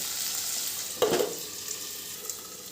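Cashews and other ingredients fry in a covered pan for matar paneer, giving a soft, steady sizzle with a brief louder rattle of stirring or the lid partway through.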